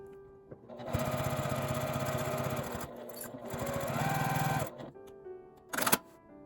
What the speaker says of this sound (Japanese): 端から5ミリくらいを縫います。